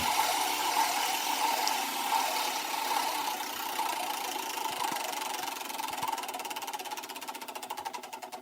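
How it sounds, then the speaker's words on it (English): An old engine runs with a steady mechanical chatter and whir, settling into a rapid, rhythmic ticking idle toward the end; fairly loud and close, no voices. "let's start up that old engine"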